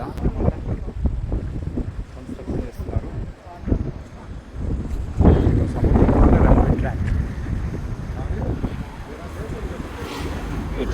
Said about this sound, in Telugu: అసలు గాలి అయితే చాలా చాలా ఎక్కువ వస్తుంది